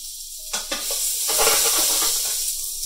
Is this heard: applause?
no